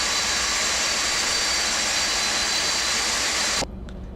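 A Boeing 747-200 jet engine runs in a flight simulator with a loud, steady broadband roar and a faint whine, then cuts abruptly to near silence.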